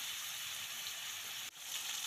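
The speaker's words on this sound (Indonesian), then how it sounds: "Goreng dulu mie ayamnya ini ya sampai sedikit berkulit" Flour-coated chicken pieces fry in hot oil, giving a dense, steady hiss of sizzling with a brief dip partway through and no talking.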